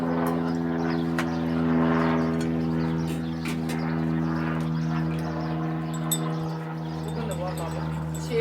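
A steady low mechanical drone with strong tonal hum, like a helicopter's engine and rotor, continuous and fairly loud throughout, with faint chirps above.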